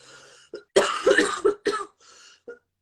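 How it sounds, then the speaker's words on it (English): A close series of harsh coughs, several bursts in quick succession with a throat-clearing quality, then a short final cough after a pause. "I'm about to cough."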